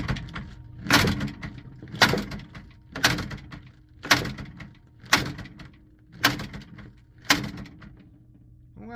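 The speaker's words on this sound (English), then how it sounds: "I'm going to grab a pin, I'm going to lay it on the T-band, and I'm going to smash it into the ball door." Sharp, loud impacts sound at a steady rhythm, roughly once a second, as a bowling pin is smashed into the ball door of a Brunswick GSX pinsetter, each hit followed by a short rattling decay.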